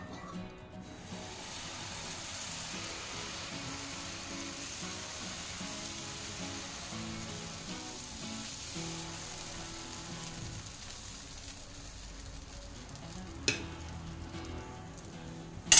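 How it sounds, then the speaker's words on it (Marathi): A soft, continuous sizzle spreads as green moong dosa batter cooks on a hot oiled griddle, steady and faint for a long stretch, with a sharp tap near the end. "तवा तापलेला आहे, छान असा तेल लावून घेऊयात आणि बॅटर जे आहे ना ते आता मी याच्यावर पसरवून घेणार आहे"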